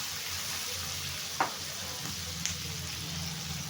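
Ivy gourd (kundri) and potato pieces fry in a pan with mustard paste, giving a steady, close hiss of sizzling oil broken by a couple of sharp clicks from stirring; no one speaks.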